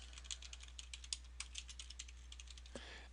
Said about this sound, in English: we want to type in formatting numbers